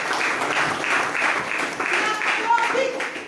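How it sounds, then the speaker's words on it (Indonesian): A church congregation at a Christmas worship service breaks into steady, lively applause, the clapping continuous and fairly close, with a few voices mixed in. "Tepuk tangan dulu untuk Tuhan."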